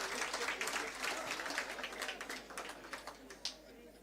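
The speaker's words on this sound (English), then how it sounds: "Another round of applause, please, for communication from the bar." Audience applause at an event marking thirty years of rights work, a dense patter of many hands clapping at moderate distance, fading toward the end with a few scattered claps.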